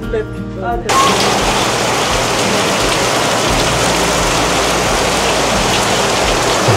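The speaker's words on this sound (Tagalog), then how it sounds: "nakabutan na kaming ulan dito" Steady, heavy rain pours down outdoors, a dense and loud hiss that starts abruptly after a brief moment of speech and then continues unbroken and close.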